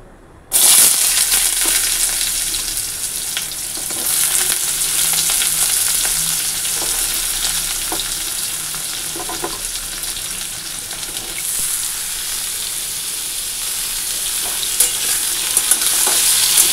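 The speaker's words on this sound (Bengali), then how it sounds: "ভাজা করব, ফোড়নে শুকনো লঙ্কা আর কালো জিরা ফোড়ন দিয়ে দিলাম।" Pumpkin fries in a pan with dried chilli and black cumin, a loud, close, continuous sizzle and hiss with occasional stirring scrapes, starting abruptly after a brief quiet moment.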